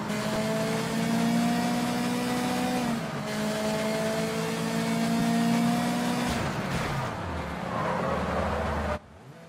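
Racing car engine in the video game Sleeping Dogs, a loud sustained drone that holds steady, drops, then climbs again with gear shifts and a brief tire squeal before cutting off abruptly.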